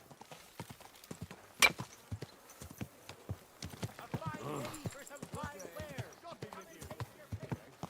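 Horse hooves clip-clop in a video game, a run of quick, uneven thuds that build mid-clip as a horse charges past, with a sharp impact early on and players shouting and talking over it.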